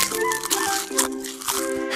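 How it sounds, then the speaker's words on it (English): A cartoon honey badger chewing loudly, with wet, crunchy, crinkly chomps coming in a steady run of close bites over a tonal musical bed. "Wow, she does chew loud."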